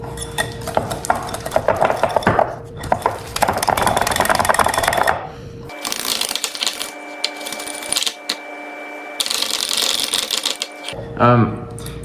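Butter mixture for cinnamon rolls beaten smooth with a whisk in a bowl: a busy, close clatter of rapid strokes that breaks off midway, then resumes with a steady high tone running beneath.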